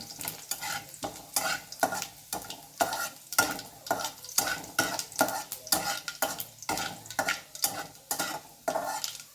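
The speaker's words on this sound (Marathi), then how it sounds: "लसूण आणि मिरची चांगलं परतून घ्यायचंय" Garlic and green chili sizzle in hot oil in a pan, stirred with steady rhythmic scraping strokes of a spoon, loud and close, with no voices.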